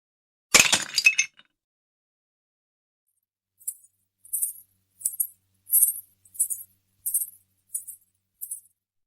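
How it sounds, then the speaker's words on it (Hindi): A clay matka pot breaks in one sharp crash during a Janmashtami stage drama, followed after a pause by a string of small, faint clinking bits. "ये मटका कैसे फूट गया?"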